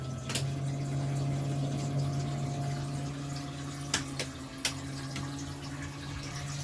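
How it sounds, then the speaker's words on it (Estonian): A household water pump runs with an altered tone as water pressure rises. It makes a steady low hum throughout, and a few faint clicks sound near the end. "pump juba hakkas teist häält tegema"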